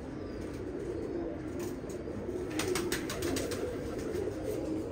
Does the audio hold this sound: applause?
no